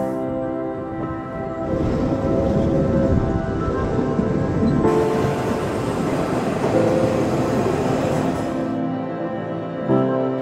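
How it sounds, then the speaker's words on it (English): A train rumbles loudly and steadily nearby, with a droning hum, tonal whine and rattling wheels rising and easing off over several seconds. "Taking the choo-choo train!"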